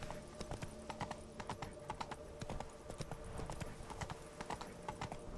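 Horse hooves clip-clopping at a steady walking rhythm in the video game The Witcher 3, close and distinct over a quiet background, with no talking.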